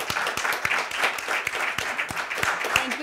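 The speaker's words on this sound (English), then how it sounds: "I'd like to give a hand of applause for the panel" Applause from the audience at the close of a Zero Trust Security tech conference panel, many hands clapping steadily at moderate distance for a few seconds with no talk over it.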